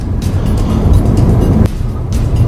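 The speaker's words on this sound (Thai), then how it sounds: "เห็นไหมเนี่ยสตาร์ทรถแล้วเนี่ย" A car engine turns over and runs with a loud, close, low rumble that stays steady, with a brief jolt partway through.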